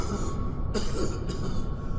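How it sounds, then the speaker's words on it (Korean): An old monk coughing violently as a sound effect in a Chinese historical horror story, two harsh rasping cough bursts over a continuous low rumbling background, close and loud. "노승이 갑자기 숨이 넘어갈 듯 기침을 하기 시작했다"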